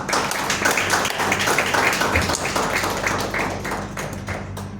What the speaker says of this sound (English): let us move on with this event with a loud round of applause.